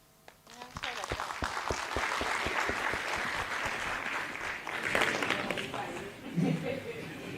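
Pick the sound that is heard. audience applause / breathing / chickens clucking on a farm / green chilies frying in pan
audience applause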